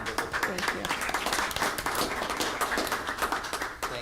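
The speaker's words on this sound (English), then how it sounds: "We deserve a round of applause." Audience applause fills a village board meeting room, a steady burst of many hands clapping at close range for about four seconds.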